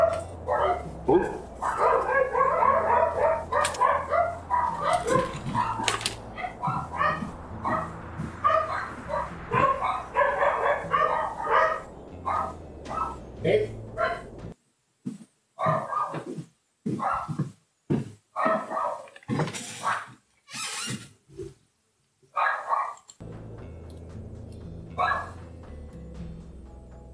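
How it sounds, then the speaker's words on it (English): Several dogs bark repeatedly at a postman, loud and close, with yips and whimpers in irregular bursts, broken by short silent gaps partway through. "The postman was here, so the dogs went barky bark"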